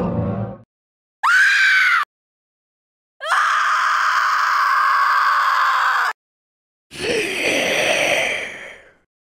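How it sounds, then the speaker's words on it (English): Separate monster-like vocal effects come one after another: a short harsh screech, a long sustained scream, then a raspy growling roar, with silence between. "I chose a bunch of growls and screams that I found off the internet."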